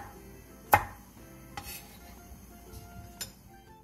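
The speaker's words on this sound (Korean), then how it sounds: "대파 3분의 1개와 청양고추 1개, 청양홍고추 1개를 어슷썰게 해주세요." A knife slices green onion and chili peppers on a cutting board, giving a few sharp, separate cuts against quiet kitchen background.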